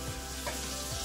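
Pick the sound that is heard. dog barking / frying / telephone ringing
frying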